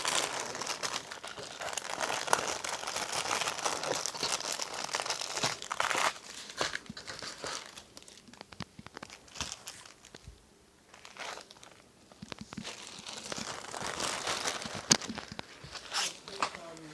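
Plastic packaging crinkles and rustles close by while diamond painting kits are unboxed, in bursts of crumpling and tearing with quieter pauses, and a voice speaks intermittently.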